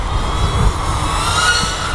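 A KingKong 90GT micro brushless FPV drone flies at full throttle outdoors, its motors giving a loud, steady high-pitched whine with no pauses over two seconds.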